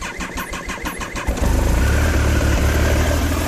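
Triumph Daytona 955i (T595) motorcycle, with about 28,000 miles and left sitting for a week, cranks with a quick rhythmic churn, then catches and settles into a loud, close, throbbing idle.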